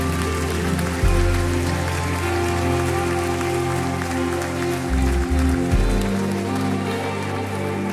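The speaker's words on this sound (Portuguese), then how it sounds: "Você pode aplaudir ao Senhor." A church congregation applauding at the close of a service: steady, dense clapping that fills the room and rises slightly near the end, over low, sustained musical tones.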